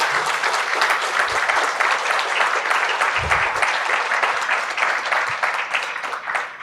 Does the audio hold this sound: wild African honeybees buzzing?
no